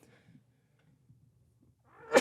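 A single sharp human sneeze bursts out near the end, close and loud after a stretch of near-silence with faint low rumble.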